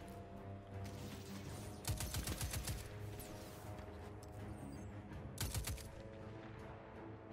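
Gunfire in a shooter video game, with two rapid bursts of sharp shots a few seconds apart standing out over a steady background of game ambience and music.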